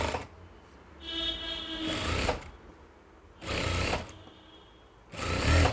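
A sewing machine stitches piping onto a frock nighty in three bursts of loud, close whirring, each lasting a second or so, with quiet pauses between them.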